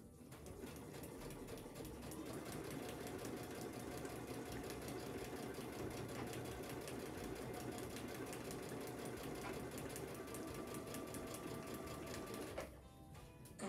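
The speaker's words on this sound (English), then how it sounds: "we're going to go to our machine and sew on line number 3" A sewing machine stitches steadily along a marked line on a quilt panel, a continuous even whirring clatter held for over twelve seconds before stopping abruptly near the end.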